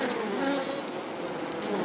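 Honeybees buzzing at an open hive make a dense, continuous, close drone of many wings, with slight swells in loudness and no voices over it.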